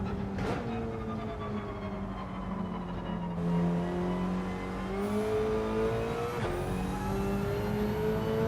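Mazda race car in a racing video game, its engine holding a steady drone then climbing as the throttle opens, with gear-shift breaks and a rising whine, loud and continuous with no talk.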